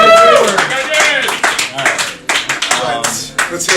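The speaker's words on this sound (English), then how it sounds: "a round of applause for the judges" Live show audience clapping for the judges, a dense burst of handclaps mixed with voices and cheering, fairly loud and continuous with talk running over it.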